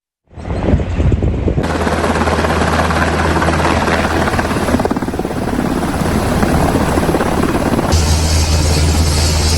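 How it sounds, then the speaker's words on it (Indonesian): A loud Israeli military helicopter roars steadily nearby as it lands on a hospital helipad, rotor chop and engine whine filling the air without pause, growing slightly heavier toward the end. "Helikopter militer Israel mendarat di landasan helikopter rumah sakit"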